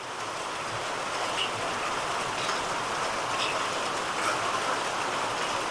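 Heavy monsoon rain in Dehradun pours steadily, a dense continuous hiss of drops on surfaces with no pauses and no voices.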